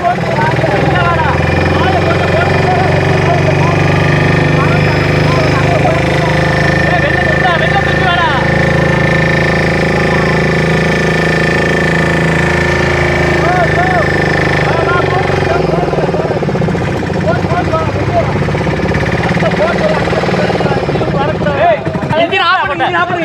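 A loud, steady boat engine idles continuously, rumbling low, while people talk over it throughout during a flood rescue.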